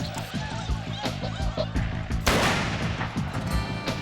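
Army-issue single-shot rifles crack in a frontier battle scene, scattered shots in an irregular volley, one heavy blast standing out, over dramatic music and sound effects.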